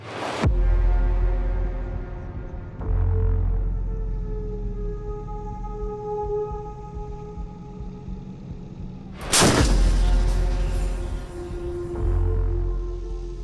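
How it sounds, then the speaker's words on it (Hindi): An Indian Army artillery gun with a 40-kilometre range fires two loud booming blasts several seconds apart, each followed by a long, low rumbling echo, with no talking. "इसका जो गन है ये 40 किलोमीटर दूरी के निशाने पर भी टारगेट लगा सकता है"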